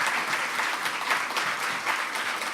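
A convention audience at the 2019 CPA founding convention applauds the steering committee with a full, steady round of clapping that carries on evenly throughout.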